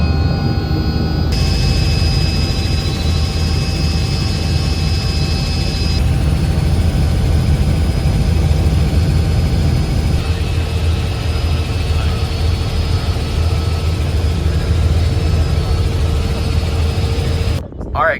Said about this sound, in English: we just got out the helicopter